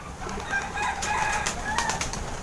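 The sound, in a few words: pigeons arriving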